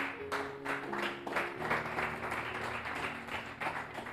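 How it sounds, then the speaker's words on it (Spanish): A church congregation claps in a sustained round of applause, rhythmic and fairly soft, with a low organ-like tone holding underneath. "Dale un aplauso al que vive y reina"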